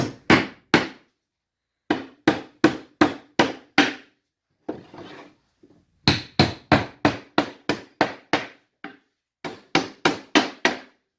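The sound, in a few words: hammering nails into wood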